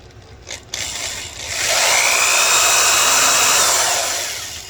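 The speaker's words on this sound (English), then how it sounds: "I've resorted to using a drill to get the exact right point and the exact right angle" A power drill whirs up to a steady high-pitched whine while repairing a broken keyboard key, running continuously for a few seconds before tapering off, close by with no talking.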